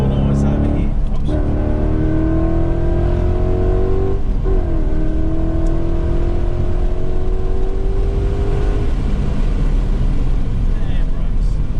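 Ford Mustang GT engine at full throttle on a track, loud and close, pitch climbing through gears with shift drops, a driving coach's voice occasionally heard over it.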